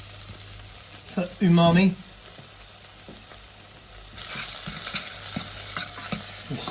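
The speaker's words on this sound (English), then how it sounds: "And then here is my black garlic I'm adding into the onions" Black garlic tossed into onions frying in a pan, a close hiss with stirring scrapes; a brief spoken phrase comes early, then the sizzle swells louder in the final seconds.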